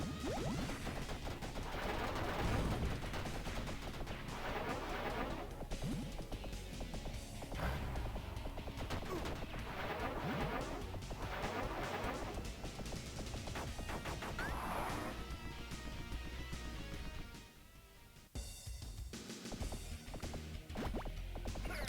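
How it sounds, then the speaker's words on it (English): Gunfire, crashes and rumbling tank effects from the Dead End City arcade game, dense and continuous over a steady game soundtrack, with a brief dip in volume near the end. "I love the sound effects too when the tanks come in."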